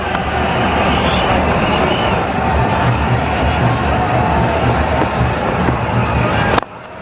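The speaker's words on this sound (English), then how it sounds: "Every run now being cheered by a very large crowd here" A very large crowd at the 2010 Asia Cup final cricket match between India and Sri Lanka roars and cheers continuously, a dense, loud wash of noise that stays steady throughout.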